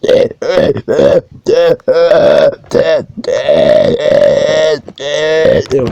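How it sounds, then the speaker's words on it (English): Loud, drawn-out burps come one after another in a rapid series, some short and some long and croaking, close and forceful with brief pauses between them. "I'll never stop burping"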